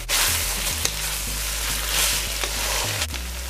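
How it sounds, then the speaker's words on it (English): Peppery salt bake dough frying in hot oil, a steady close sizzle with soft bubbling and occasional faint stirring knocks, no voices. "Now we're gonna fry."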